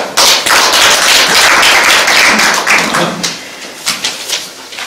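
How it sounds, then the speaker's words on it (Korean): Applause from an audience at a civic policy debate, a dense patter of clapping that starts abruptly, holds steady, then thins into a few scattered claps near the end. "박수 부탁드리겠습니다"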